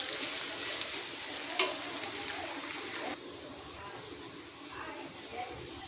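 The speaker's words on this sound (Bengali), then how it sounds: "একটু নেড়ে নিতে হবে। পেঁয়াজটাকে একটু লাল করে নিতে হবে।" Onions fry in a pan and are stirred while cooking chicken, a soft steady sizzle with a sharp scrape or clink early on, quieter in the second half.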